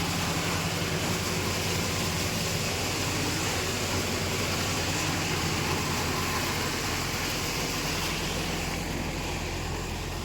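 A Mahindra Yuvo Tech+ 585 tractor drives a maize threshing machine, producing a loud, continuous, steady mechanical roar with broadband clatter that holds unbroken throughout, with no voices.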